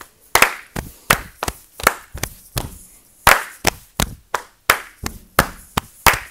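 Sharp hand claps in a repeating rhythmic pattern for a fourth-grade class exercise, crisp and close, grouped in uneven beats with short pauses.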